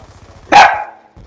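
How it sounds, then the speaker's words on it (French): A dog barks loudly and close, one sharp bark at a home gaming livestream of Black Ops 2, with a quiet voice murmuring underneath before and after. "Excusez-moi pour mon chien."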